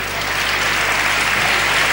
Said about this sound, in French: Et il est applaudi par